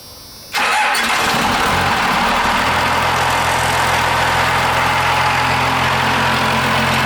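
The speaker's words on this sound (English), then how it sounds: "That's a 12 valve, bud." A 12-valve Cummins diesel in a van cranks and fires up abruptly, then settles into a loud, steady, rumbling idle close by, with no talking.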